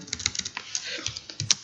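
Quick irregular clicks of keys being typed on a computer keyboard, close and fairly quiet, a short burst of keystrokes.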